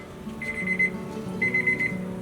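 A Chef's Alarm probe thermometer goes off at 145 degrees while pork tenderloin grills on a PK Grill, giving two short bursts of rapid high beeping a second apart.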